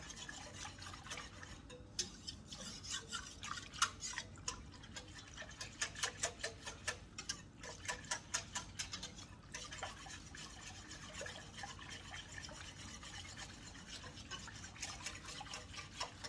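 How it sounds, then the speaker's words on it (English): A whisk works milk-based clam chowder in a pot, making quick, rhythmic metallic clicks and taps that run steadily throughout, close and fairly faint, with no talking. "you need to keep whisking and not go too far away because the milk will scorch to the bottom"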